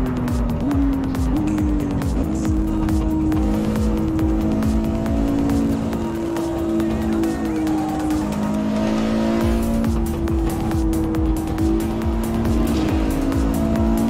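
A race car screams around a track at 300 km/h in a Japan driving game, engine droning loud and continuous with rising and falling pitch as it shifts through gears, with brief tire squeal.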